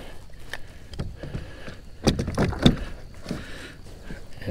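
X drive pedal unit dropped into the hull of a Vibe Shearwater 125 fishing kayak: a few hollow plastic knocks and a scraping clunk as it seats, fairly close, with soft handling noises around it.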